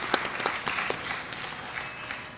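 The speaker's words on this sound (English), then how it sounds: "A big round of applause, Riya." Scattered clapping from a small audience after a Bharatanatyam dance set to a bhajan at an arangetram, soft and thin, a few claps standing out, fading over a couple of seconds.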